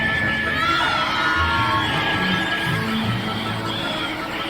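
A mandrake screams in Hogwarts Legacy, a shrill, continuous, wavering shriek that fills the whole moment at close range, loud and unbroken from start to finish.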